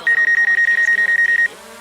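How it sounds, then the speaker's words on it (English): A rapid series of about a dozen sharp electronic beeps from a DJI Mavic Air 2 drone sensing someone nearby, at a steady quick rhythm, close and loud, ending abruptly with faint background hum. "it's going to beep because it's sensing someone around."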